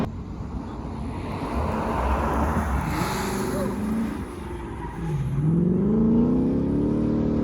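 Tesla Model 3 SR+ powering out of a long corner on a race track, a steady electric whine rising in pitch as it accelerates, with heavy wind and road rumble throughout.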